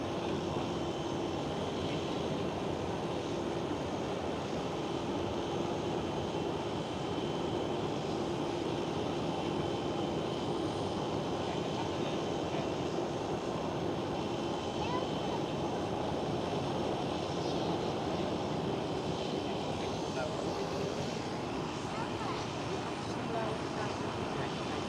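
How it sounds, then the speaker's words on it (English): A KLM Airbus A330 jet taking off at Schiphol Airport in Amsterdam, a loud continuous engine roar that holds steady throughout, with a person talking at times. "There goes KLM A330."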